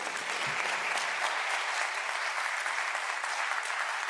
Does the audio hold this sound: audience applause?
yes